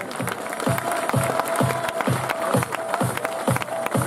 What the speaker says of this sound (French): Les applaudissements à nouveau s'il vous plaît